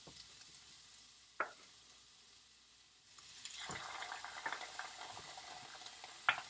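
Onions hit hot oil in a pan and break into a steady, crackling sizzle that continues for several seconds, with a few clacks of a utensil or pan against the stove and no talking.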